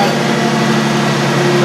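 A car fitted with a new Megan catback exhaust runs at a steady, close idle, its low, even drone holding for a moment with no clear rise or fall.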